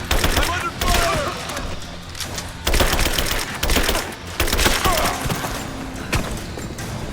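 Loud, dense bursts of gunfire in a Rise of the Tomb Raider firefight, with rapid cracking volleys that come in waves and barely pause, mixed with faint shouting.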